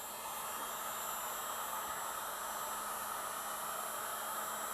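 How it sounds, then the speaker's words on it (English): Electric heat gun blowing hot air to soften sticker adhesive on cold metal, a steady airy whoosh with a faint motor hum, constant and close, no talking. "I came up with this idea, using an electric heat gun"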